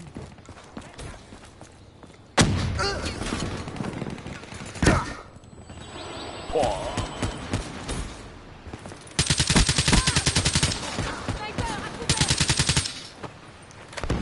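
Rapid suppressed gunfire from the video game Call of Duty Black Ops 3, with several sustained bursts of muffled automatic shots and louder intense stretches, with background game noise in between.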